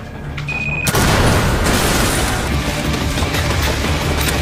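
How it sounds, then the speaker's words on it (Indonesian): A sudden loud blast erupts in a room in an action film, after a brief tone, followed by a dense, sustained roar of rumbling noise that stays intense until the end. "Tiba-tiba terjadi ledakan di dalam ruangan ini."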